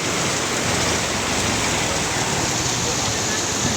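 Heavy rain pours steadily after midday thunder and lightning, a dense, continuous roar of water close by with no pauses, filling the whole clip.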